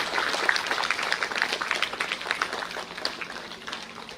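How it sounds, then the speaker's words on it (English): An audience at an awards ceremony for successful appointment exam candidates keeps up moderate, fairly distant applause, a continuous patter of many hands that slowly thins out. "We should not stop giving a round of applause to all the successful candidates."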